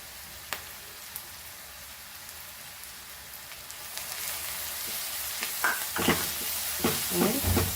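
Chicken, masala and onions sizzle in a pan, a soft crackling hiss that grows busier toward the end with scattered sharper pops and stirring clatters.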